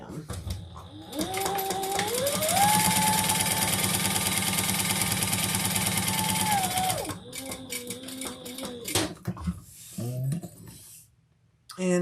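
A sewing machine stitches a handbag, its motor whirring up into a fast, loud, steady run for several seconds before slowing and stopping, then a few brief shorter bursts and handling clicks follow.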